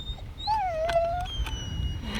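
A dog whimpers in a high, wavering whine that rises then slides down, close by, followed by a few short soft yelps over low background rumble.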